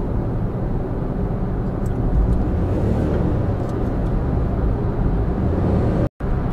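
Chevrolet Spark small car on a test drive, a steady engine and road rumble heard from inside the cabin, continuous and fairly loud with a brief dropout near the end.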